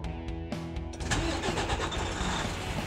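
A Western Star truck with a Detroit engine cranks briefly and fires up, settling into a loud, steady diesel idle close by.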